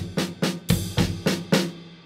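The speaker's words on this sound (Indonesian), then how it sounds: "Jadi awalnya itu rudiment double stroke dulu, kayak gini." Double stroke rudiment on a drum kit, six evenly spaced, sharp strokes on snare with kick, each one loud and close, played alone without talk.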